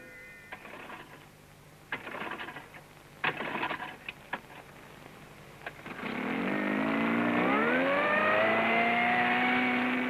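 An outboard motor on a small boat casting off: a few knocks and clunks, then the engine starts and revs up into a loud, steady rising drone that carries to the end.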